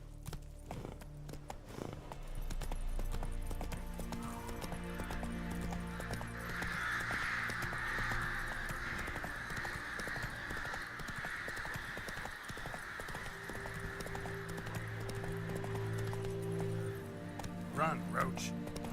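Roach, a horse in The Witcher 3 video game, gallops with steady rhythmic hoof clip-clop under a low hum and a sustained tonal drone, with a voice speaking over it.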